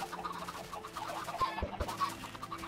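Chickens clucking in Minecraft with the Industrial Craft 2 mod, several short game clucks scattered over a steady low ambience, fairly quiet, no talk.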